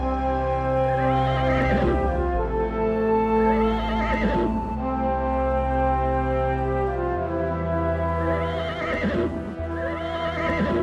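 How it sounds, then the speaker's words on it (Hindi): Several horses whinny repeatedly in long, loud, close neighs, with a faint clip-clop of hooves underneath. "अरे इतने सारे घोड़े किसके हैं?"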